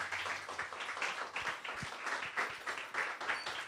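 An audience at a festival tribute event applauds with dense, continuous clapping that holds steady throughout, moderately loud and slightly distant.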